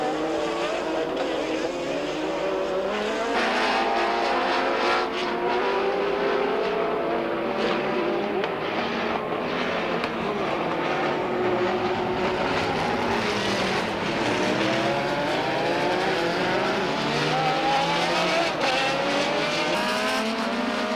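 Sports-prototype race cars, a factory Porsche and naturally aspirated Jaguar V12s, race at Norisring in the 1987 World Sports-Prototype Championship: a loud, continuous wall of engine roar with rising and falling pitches as cars sweep past, no voices.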